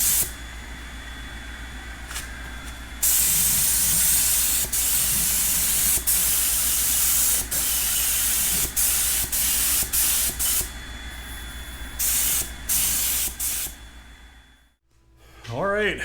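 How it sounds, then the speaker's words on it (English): A steady, loud hiss of a spray gun spraying red paint onto a Farmall Super M tractor's rolling chassis, broken by short pauses and bursts, fading out near the end. "we're done spraying the paint"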